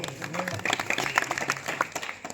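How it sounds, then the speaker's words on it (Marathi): A crowd clapping, scattered and uneven at first, then building into steady applause with voices murmuring underneath. "आपण जोरदार टाळ्या वाजू"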